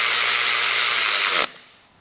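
A ratchet tightens the rear wheel nuts on a Piaggio BV400 scooter: a close, continuous rasping whir of about one and a half seconds that stops abruptly and fades into quiet.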